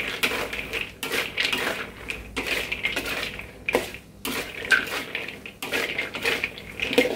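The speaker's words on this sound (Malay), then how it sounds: "Kita masukkan kulit popiah ni. Kita gaul." Crisp popiah skins tossed and stirred in thick, bubbling sugar syrup in a pan: repeated rustling, crunching scrapes in steady strokes about a second apart, close and moderately loud, with no talking.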